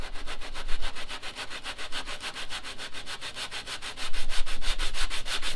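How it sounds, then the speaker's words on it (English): Hand sanding a plywood scarf joint for a boat build, steady rhythmic back-and-forth strokes about four per second, close and fairly loud, with no voices. "I'm just going to sand this up just a little bit."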